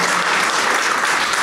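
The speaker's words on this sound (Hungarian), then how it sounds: "A tapsot megérdemlik a fiúk." A short burst of dense audience applause at a talk evening, loud and even, with many hands clapping at once and no voices.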